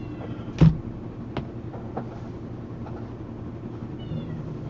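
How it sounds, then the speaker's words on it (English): A pet cat lets out one short, loud meow near the start, followed by a few fainter, brief sounds over a steady low background hum. "Yep, that's the cat."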